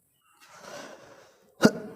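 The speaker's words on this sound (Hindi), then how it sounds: "गला नासाज लग रहा है, खांसी आ गई" A soft breathy exhale, then a single sharp cough up close, with quiet around it.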